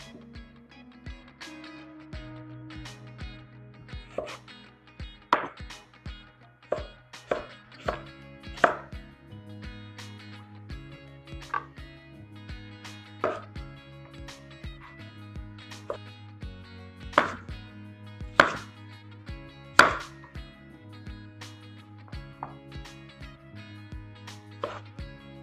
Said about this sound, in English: Now I'm gonna slice them smaller so I can easily blend them.